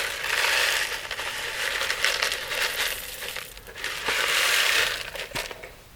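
Dry granola pours into a container of yogurt with a steady crunchy, rattling rush. The sound swells, dips, then swells again over several seconds, close up and with no talking.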